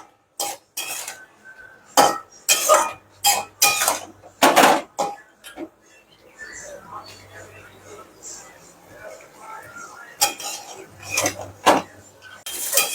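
Malabar spinach cooked with a fish head being stirred in a pan, giving irregular scraping and clinking strokes of a spoon against the metal pan, fairly close, with quieter stretches between bursts.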